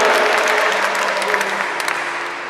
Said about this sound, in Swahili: Pigeni makofi kwa sababu tunakubali kufanya jambo hilo